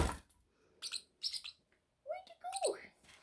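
Pet parrots kept together give short, bright chirps and whistles in scattered bursts, including one rising-and-falling whistled call near the end, with no talking in between.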